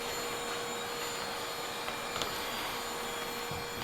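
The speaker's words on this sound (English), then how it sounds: "I'm gonna just grab my handy dandy vac here." A handheld vacuum cleans up heat transfer vinyl scraps from an embroidery appliqué project, giving a steady, close, continuous motor whine and airflow rush for about four seconds with no talking.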